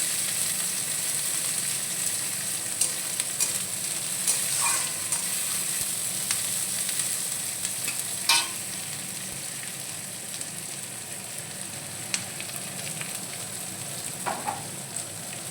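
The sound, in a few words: chopped onions frying in a pan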